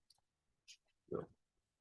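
A single mouse click on a settings button lands close and crisp, with soft clicks and a brief murmur just before it in an otherwise quiet room.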